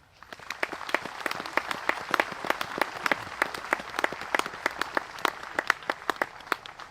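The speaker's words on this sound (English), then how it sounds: "I would like a big applause for Marjan Zomer, Christian Harking, and Ber" Audience applause fills a hall at a speaker event, many hands clapping steadily and fairly close for the whole stretch, with sharper individual claps standing out from the dense patter.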